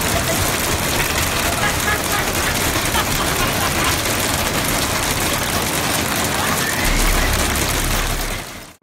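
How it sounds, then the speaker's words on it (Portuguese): A 2017 hailstorm pounds a city street, making a dense, loud, unbroken roar of hailstones battering hard surfaces, with a crackling, rattling texture that holds steady until it cuts out at the end. "uma tempestade de granizo atingiu a cidade"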